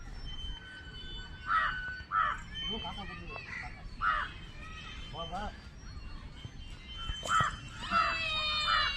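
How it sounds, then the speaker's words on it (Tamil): Crows caw repeatedly at a children's park in Chennai, with harsh calls recurring every second or two at moderate distance. People talk throughout. "காக்கா கத்துது."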